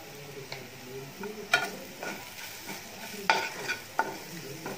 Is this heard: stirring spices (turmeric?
yes